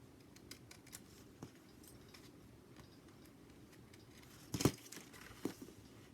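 Steel scissors cut a paper sewing pattern for a front and back bodice draft, giving a few faint, brief snips and crinkles in a quiet room, with one sharper cut standing out near the end.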